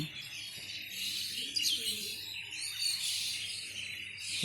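A passing flock of mynas calls overhead at dawn near a rooftop pigeon loft, giving scattered high chirps and chatter at moderate distance over a steady outdoor hiss.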